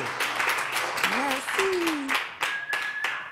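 A studio audience applauds a singer on the JJDA show with brisk, dense clapping, while a voice speaks briefly over it and a few tonal whistles sound.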